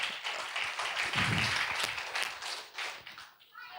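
A church audience at a Christmas celebration applauds steadily for several seconds, a dense patter of clapping that fades slightly toward the end.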